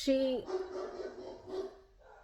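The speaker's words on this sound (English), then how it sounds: "forgive my dogs. They are guarding the house apparently" Dogs guarding a house give a short bark or yelp at the start, followed by quieter whining and voice-like sounds under someone talking nearby.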